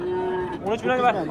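A young bullock moos at a livestock market in Kattakurgan, two drawn-out calls rising and falling over crowd noise and nearby voices.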